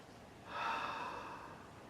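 A single deep breath drawn in close to the microphone, a soft airy inhale rising and then trailing off in a quiet room.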